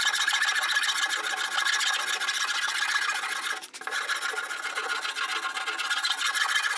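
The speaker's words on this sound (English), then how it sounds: "how the rasp can really smooth this out quickly" A hand rasp smooths the wooden deck of a handmade stand-up paddleboard in a steady, continuous scraping rasp, close and fairly loud, with one brief pause partway through.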